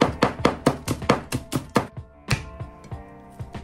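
A knife chops green onions on a board in fast, even strokes, about ten crisp close taps that slow and thin out toward the end, with no voice.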